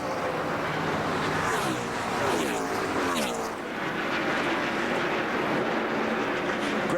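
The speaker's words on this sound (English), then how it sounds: "One more lap for Greg Biffle" NASCAR Busch Series race cars roar past at speed on a restrictor plate track in 2003, a loud continuous engine drone with a rising and falling pass in the middle, under crowd and commentary noise.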